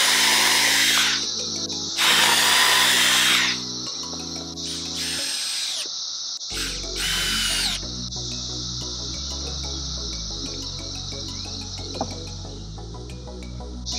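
A power drill driving screws into wood whirs in several short bursts, then settles into a steady high whine, with faint clicks and knocks in between.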